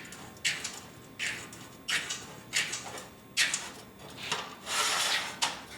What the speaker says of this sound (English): I'm going to take the square and put it along the edge, and then use my metal scribe